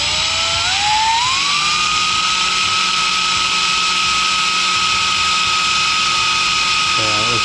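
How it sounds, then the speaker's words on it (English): A drill bit grinding out a broken tap in a diesel engine cylinder head, a steady high-pitched whine held for several seconds, loud and close, rising in pitch at the start. "Like they're drilling really well."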